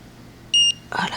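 A blood ketone meter gives a single short electronic beep as it reads a blood sample, clear and close, followed by a brief rustle.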